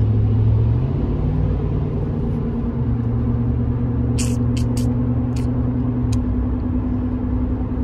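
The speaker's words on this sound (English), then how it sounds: "See, the traffic kind of flowing over there now." Steady road traffic on a Texas highway, a continuous broadband engine and tire rumble with a low droning hum, passing vehicles blending together, plus a few brief high clicks partway through.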